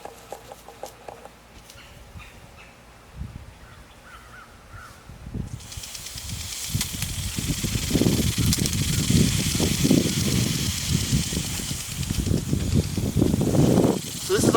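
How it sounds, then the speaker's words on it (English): An impact sprinkler throws irrigation water with a loud, continuous spraying hiss and rhythmic ratcheting pulses, close by and building after a quieter opening with birds in the background. "So this is our impact sprinkler"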